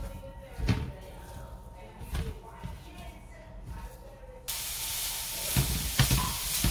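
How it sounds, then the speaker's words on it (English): Pan sausage browning in a pan for a breakfast deep dish pizza, a steady close sizzle and hiss that swells louder partway through, with occasional scraping and a voice talking over it. "we're just browning up our pan sausage here"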